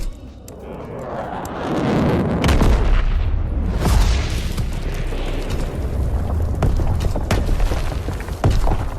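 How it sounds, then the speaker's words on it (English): The V2 rocket killstreak in Call of Duty: WWII strikes with loud, heavy explosions, a deep rolling boom that swells into sustained rumbling, with scattered blasts and debris crackle continuing throughout. "the V2 rocket kill streak here in Call of Duty World War II"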